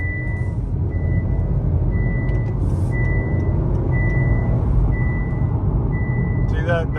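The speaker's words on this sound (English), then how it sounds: "it just does this loud beeping sound" A 2021 Honda Accord Sport 2.0T's seatbelt warning chime beeps in a steady, evenly spaced pattern, high and insistent over a loud engine rumble inside the vehicle.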